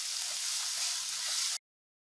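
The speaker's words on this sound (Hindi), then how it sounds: "चाइनीज कटलेट्स, जिसके लिए थोड़ी सी सब्जियां फ्राई कर रहे हैं।" Chopped vegetables and a grated medium carrot fry in a pan, giving a steady, close hiss that runs unbroken for about a second and a half before cutting off abruptly.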